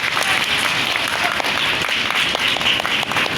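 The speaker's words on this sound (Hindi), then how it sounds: "बहुत सी तालियां" Steady audience applause at a show at Safari Park, Karachi, dense and continuous, many hands clapping together at a fairly loud level without a break.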